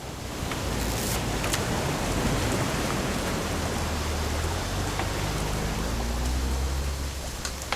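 Steady heavy rain falls in What Remains of Edith Finch, a dense even hiss with scattered drops, and a faint low droning hum rises near the end.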